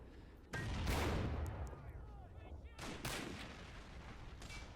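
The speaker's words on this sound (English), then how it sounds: "the Confederate artillery can fire without too much remorse" Confederate artillery in a Civil War video game fires heavy booming shots, two loud blasts about two seconds apart, each with a long rumbling tail and crackling echo, amid battle noise.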